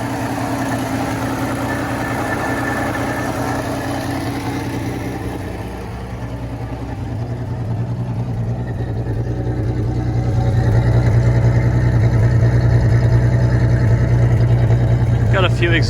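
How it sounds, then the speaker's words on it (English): An old panel van engine idles steadily with a low, uneven rumble and puffing exhaust from exhaust leaks, growing louder and rougher partway through, close to the microphone. "Got a few exhaust leaks through it. They're a bit easier to hear when you're here."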